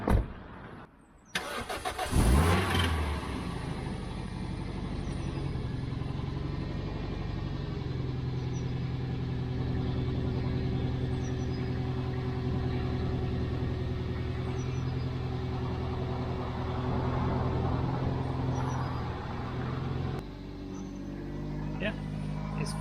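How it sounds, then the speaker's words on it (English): A car that has stood all winter cranks briefly and catches, then settles into a steady idle that runs close and even for about twenty seconds before cutting off near the end. "this car has been standing the whole winter. We started up now"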